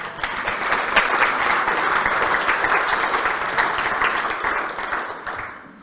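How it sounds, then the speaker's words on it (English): An audience at a Guild of One-Name Studies annual general meeting claps steadily for about six seconds, a dense even round of applause that fades at the end. "I think he deserves a round of applause."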